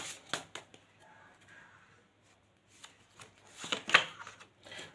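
Tarot cards being shuffled and drawn, a few quick crisp riffles and flicks close by, faint and intermittent with quiet gaps between.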